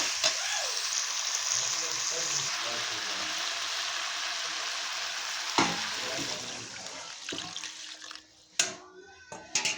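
Water poured into a pan of frying cauliflower and potato curry with prawns, a loud rushing sizzle that settles over several seconds, followed by sharp clanks of a utensil against the pan near the end.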